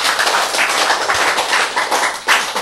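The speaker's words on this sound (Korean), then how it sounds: "이렇게 하네. 박수." Audience clapping in a talk on healthy eating and cancer, a loud, steady patter of many hands with no speech over it.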